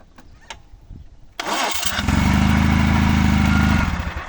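A minitractor engine cranks briefly and catches, then settles into a loud, steady idle that holds close by; a few small clicks and knocks come before the start.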